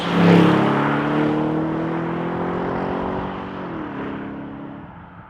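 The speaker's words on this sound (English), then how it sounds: "I'm driving this, the Bentley Continental GTC" A Bentley Continental GTC V8 convertible being driven gives a smooth, steady engine hum that swells briefly at the start, then holds a sustained drone with a slight pitch drop near the end, heard alone.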